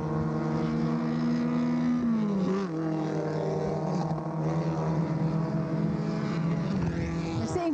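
MG race cars at Watkins Glen climb the hill toward the S's, several engines droning loud and steady with a rising and falling pitch as they shift gears and pass close by.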